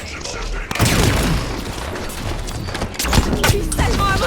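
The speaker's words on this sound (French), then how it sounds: "Ça tire." Gunfire in the Halo 5: Guardians campaign on Legendary difficulty, dense bursts of shots and booming impacts layered over a constant roar of combat, with a brief quiet gap before each loud burst.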